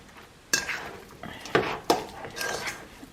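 A utensil stirs salmon patty mixture with seafood seasoning in a bowl, giving a few sharp clinks and scrapes against the bowl with soft, wet mixing between them, close and fairly quiet.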